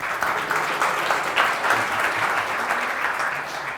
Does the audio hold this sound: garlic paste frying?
no